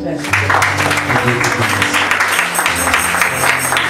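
A church congregation acclaiming Jesus with sustained, dense applause and cheering voices, loud and close, continuing steadily for several seconds.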